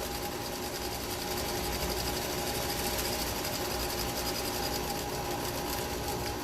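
A sewing machine back stitches fabric on a face mask, a continuous fast mechanical hum and rattle, close and steady throughout with no talk.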